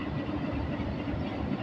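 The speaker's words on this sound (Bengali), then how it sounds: "ট্রেন, এই তো ট্রেন ছাড়ছে।" A train pulls out right up close, a dense, loud low rumble of engine and rolling stock holding steady throughout, with no voices over it.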